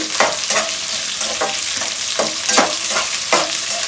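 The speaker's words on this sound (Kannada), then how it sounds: "ಈರುಳ್ಳಿನೂ ಚೆನ್ನಾಗಿ ಇದ್ರ ಜೊತೆ ಎಲ್ಲ ಫ್ರೈ ಮಾಡಿಕೊಡಿ" Thick sliced onions frying in a pan for a diet soup, sizzling loudly and steadily up close, with repeated rhythmic stirring scrapes roughly every half second.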